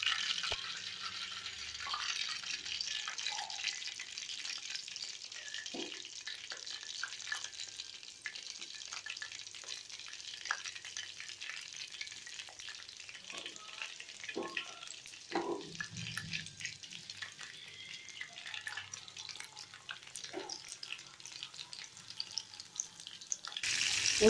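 Mushrooms for Mushroom 65 deep fry in oil, giving a continuous soft hiss and sizzle with occasional clinks and light kitchen knocks; the sound is fairly quiet and nobody speaks.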